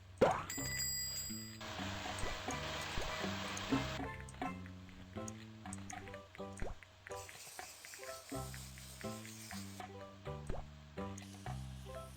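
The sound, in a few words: bell ringing in Papa's Freezeria video game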